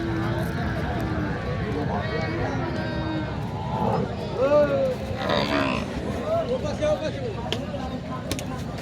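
Bull calves lowing at a busy cattle market in Rajshahi, several moos rising over steady crowd chatter and nearby talking voices.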